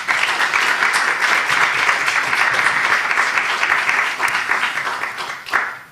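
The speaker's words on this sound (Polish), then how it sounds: "Wielkie brawa." Warm, dense applause fills the hall at the final gala of an international film festival, steady and loud for several seconds before tapering off and stopping abruptly.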